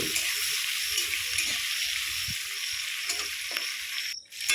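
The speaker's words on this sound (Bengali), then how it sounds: "তেলের মধ্যে চিংড়িগুলো খুব সুন্দর করে দিয়ে দিলাম দিয়ে ভেজে নেবো" Shrimp fry in hot oil in a home kitchen, a steady broadband sizzle that holds evenly throughout with a few soft stirring knocks, then a brief cut near the end.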